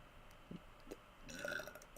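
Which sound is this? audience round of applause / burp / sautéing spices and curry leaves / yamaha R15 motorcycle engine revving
burp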